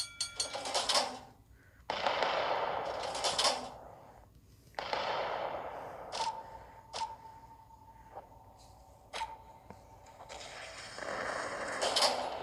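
Naval guns boom in the Battle of Warships video game as an enemy destroyer and battleship open fire: several loud, sharp bursts separated by short pauses, with fainter mechanical clanks between them.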